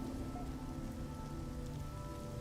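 Steady rain patters and hisses continuously as in-game weather on an alien planet in No Man's Sky, a dense, even downpour with no breaks and faint tonal game ambience beneath.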